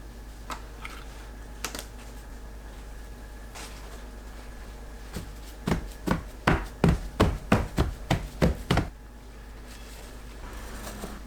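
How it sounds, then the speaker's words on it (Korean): A potato is slid thin across a mandoline slicer in a home kitchen, giving a quick series of about ten crisp, rhythmic scraping strokes near the microphone, after a few sparse clicks. "감자를 슬라이서로 얇게 밀어줍니다."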